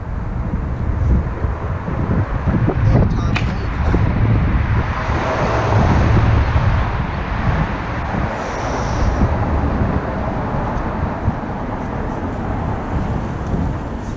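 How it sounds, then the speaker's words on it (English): Outdoor wind buffeting a microphone, a loud continuous low rumble with gusty surges that never lets up, no talking. "Man, it gets so windy."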